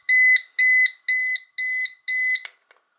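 A battery-powered pomodoro timer with a soft silicone cover sounds its alarm on the louder volume setting. Five evenly spaced, loud, shrill electronic beeps ring out close up, then stop.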